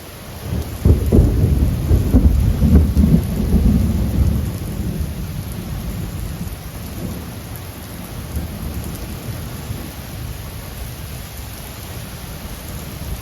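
Severe thunderstorm with strong winds: a heavy, close thunder rumble builds and rolls for several seconds, then dense steady rain and wind noise continue alone at a fairly loud level.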